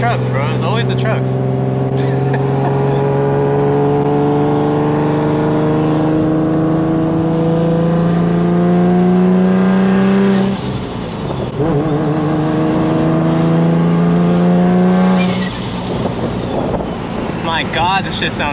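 Loud, close engine note of a Nissan Z revving and pulling through gears, rising pitch sweeps repeating with short dips between shifts, buffeted by wind noise, with voices talking over it.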